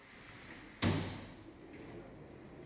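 A door in an apartment studio opens with one sharp thump near the start, then a quiet room tone follows with no voices.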